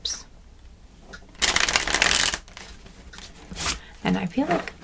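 A deck of cards, apparently tarot cards, is shuffled by hand in several close, crisp riffling bursts, the longest early on and shorter ones later, while a person talks quietly between them.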